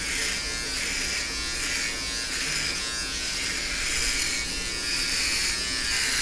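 Electric shaver buzzing steadily as it runs over legs, a close, continuous bright hum with slight swells in pressure, and a voice murmuring faintly underneath.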